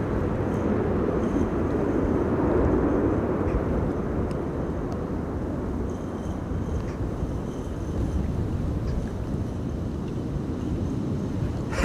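An Airbus A380 at Amsterdam Schiphol in high winds gives off a steady, broad jet roar that holds throughout, with wind buffeting the microphone.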